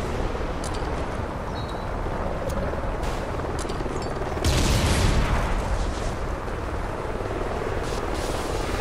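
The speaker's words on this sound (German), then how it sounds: "Heli-Aufklärer auf dem Weg." In a Call of Duty Ghosts multiplayer match, a scout helicopter thrums steadily at a distance, its rotor noise mixed with scattered gunfire bursts and a louder swell midway, with no talk.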